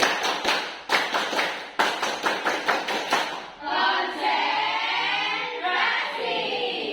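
Classroom of students in a teacher-training lesson doing a rhythmic concentration clap pattern, a run of sharp group claps in quick bursts, then giving way to a swell of overlapping children's voices.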